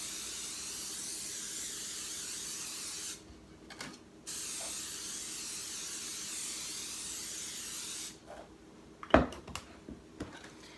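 Cooking spray hisses onto a baking pan of homemade cinnamon rolls in two long, steady bursts separated by a short pause, followed by a few light clunks of handling.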